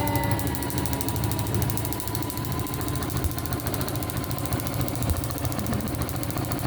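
A sewing machine quilts fabric, running steadily with a fast, even mechanical rattle of stitching, continuous and close, with no voices.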